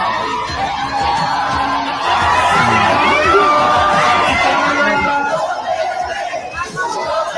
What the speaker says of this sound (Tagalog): Ang sigaw ng tao Duterte.